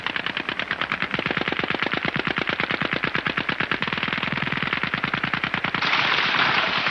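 An army machine gun squad fires in one long, rapid, evenly spaced burst of loud, close shots, with some rumbling echo as the firing ends.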